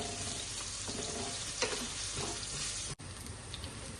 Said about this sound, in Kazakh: Bunu енді қызарғанша қуырып аламыз